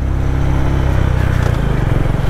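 A 2023 Honda CB350 RS motorcycle runs steadily while being ridden, its low, throbbing engine thrum loud and close with a slight rise in pitch and no voices.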